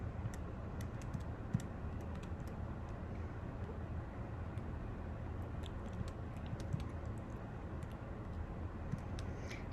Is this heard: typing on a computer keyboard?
yes